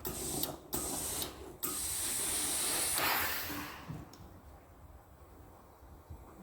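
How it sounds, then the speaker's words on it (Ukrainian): Steam iron pressing a seam while sewing a vest: two short bursts of steam hiss, then a longer sustained hiss that fades into quiet rustling, close and fairly soft. "Спочатку припрасуйте шов."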